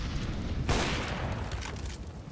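Pistol fire in the Counter-Strike video game, a single sharp shot cracking out early and fading into a brief echoing tail.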